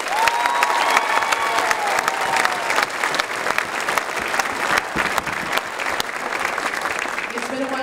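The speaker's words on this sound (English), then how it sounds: "A big round of applause for those singers" Loud, sustained applause with some cheering from the audience at a Mahomet Seymour High School choir concert, honoring the singers, a thick wash of clapping that holds steady and thins slightly toward the end.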